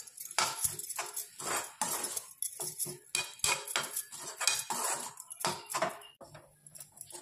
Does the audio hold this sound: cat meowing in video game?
no